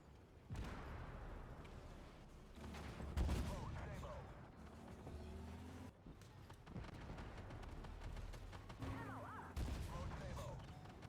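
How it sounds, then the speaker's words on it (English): An EE-T1 Osório tank firing AP rounds in an online tank battle game, several sharp cannon blasts spaced seconds apart amid rumbling engine and battle noise, with someone talking over it. "Now we're shooting with AP rounds out of a hit."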